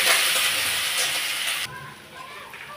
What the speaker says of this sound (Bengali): এবার ওই তেলের মধ্যেই আমি যে কুচনো পেঁয়াজটা রেখেছিলাম, ওই পেঁয়াজগুলো আমি একটু ভেজে নেব হালকা করে।